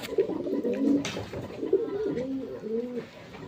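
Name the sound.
pigeons cooing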